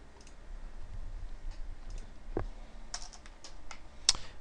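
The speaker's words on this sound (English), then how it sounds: "we're just going to type this out very neatly" Someone types code on a computer keyboard, giving soft, irregular key clicks with a few sharper taps, close and faint over a quiet background.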